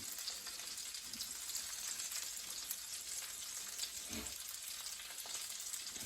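Hake fillet pan-frying in butter, a steady, quiet crackling sizzle with a couple of soft bumps from the pan, no talking.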